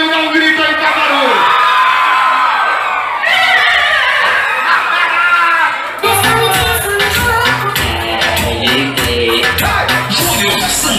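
Loud crowd of women screaming and cheering at a live music show, continuous shrieks and whoops filling the whole clip with shifting intensity.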